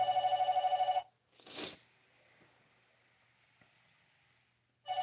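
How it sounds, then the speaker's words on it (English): A telephone bell rings in a steady trilling burst, stops for a few seconds of quiet room noise with a faint shuffle, then starts ringing again. "We'll wait for the phone to stop ringing."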